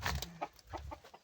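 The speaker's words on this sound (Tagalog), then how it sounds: "Manok pala talaga." Chicken clucking in short repeated bursts at close range, a few quick clucks spaced irregularly over about a second, fairly quiet with light background noise.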